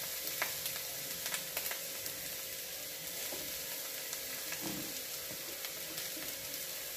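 Grated carrot and beetroot fry on a hot tava for a toast sandwich, giving a steady close crackling sizzle with scattered pops and occasional stirring scrapes, with no voices.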